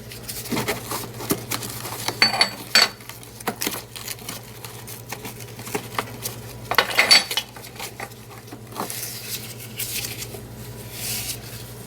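Metal tools clink and rattle as someone rummages for an O2 sensor socket while working on a Ford Freestyle, a scattered run of sharp, close clatters over a steady low hum.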